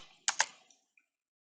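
A name is typed on a computer keyboard: two sharp, close key clicks in quick succession, followed by a couple of faint taps in a quiet room.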